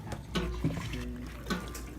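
Cooking water from freshly boiled potatoes pours out of a pan into a colander in a home kitchen, a short gushing splash with a few sloshing bursts, close and fairly loud.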